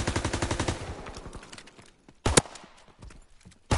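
Rapid automatic gunfire from a video game opens with a fast, even burst of shots that fades out, followed after a short pause by a couple of sharp, loud single shots.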